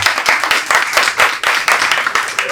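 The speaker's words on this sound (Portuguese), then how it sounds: "Salve de palmas para a Bárbara." Audience applause at a Casa da Favela panel session, close and fairly loud clapping with individual claps clearly distinct, rising and falling slightly over a couple of seconds with no speech.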